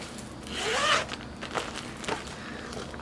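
A makeup bag's zipper is pulled open with one quick, close rasping zip, followed by a few soft handling rustles and clicks in a quiet room.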